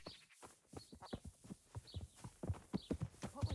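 A horse's hooves clip-clop in the medieval video game Kingdom Come: Deliverance, a quick irregular series of close, sharp strikes that grows denser toward the end, with no speech.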